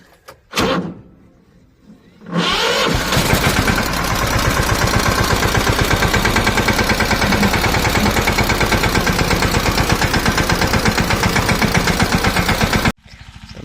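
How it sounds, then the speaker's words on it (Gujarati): A tractor engine arrives at a farm field during sowing, a loud, steady, throbbing drone with a fast regular pulse that starts abruptly after a brief knock and near-silence, then runs for about ten seconds and cuts off sharply. "પપ્પા ટ્રેક્ટર લઈને આવે છે અમારે।"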